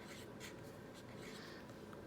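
A pencil writes a word by hand on paper during a writing lesson, with soft continuous scratchy strokes and brief taps, faint and close, with no talking.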